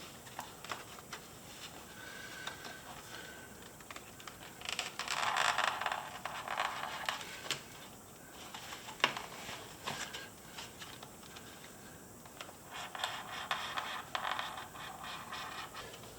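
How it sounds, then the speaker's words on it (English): A blade trims a sword scabbard along its drawn midline in quiet, creaky scraping strokes, with two longer rasping passes and small taps between them, heard close with no one talking. "I'm just going to go down right along the midline and trim this"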